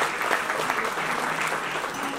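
Audience applause at an education board seminar in Raipur, Chhattisgarh, a brief steady burst of many hands clapping, fairly distant and even in level.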